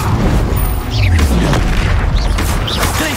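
Casting the Incendio fire spell in Hogwarts Legacy sets off a loud, dense whooshing burst with a deep, rumbling boom that holds for about three seconds, with swirling game effects layered over it.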